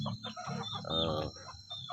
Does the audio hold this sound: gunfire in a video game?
no